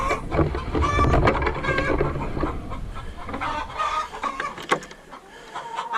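Several chickens in a chicken run cluck and squawk in a busy, continuous racket, close by, with overlapping calls and no talking.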